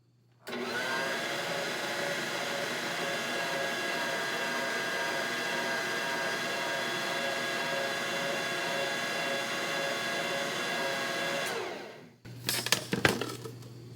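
An electric mixer whirs steadily for about eleven seconds while it works freshly milled flour into bread dough for a sandwich loaf, then cuts off, followed by a brief clatter.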